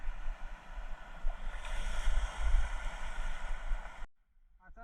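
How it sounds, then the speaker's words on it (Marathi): Sudden strong sea waves around a fishing boat at sea, a steady broadband rush of surf and wind buffeting the microphone, swelling louder midway before cutting to near silence with a faint voice at the end. "अचानक लाटा भरपूर झाल्यात"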